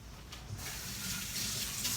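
A kitchen tap runs steadily into a sink while hands are washed during fish cooking, a close, continuous hiss of water that swells slightly after a brief start.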